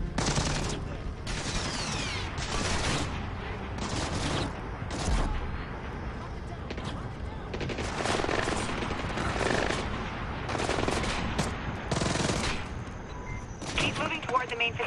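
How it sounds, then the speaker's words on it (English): A firefight in Splinter Cell: Blacklist: repeated bursts of automatic gunfire crackle back and forth almost without pause, loud and close, with scattered single shots between volleys. "we are under fire right now"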